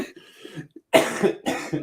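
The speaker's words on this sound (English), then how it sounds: "without laughing again and coughing as a result" Several harsh coughs up close: a softer rasp first, then two strong bursts in quick succession.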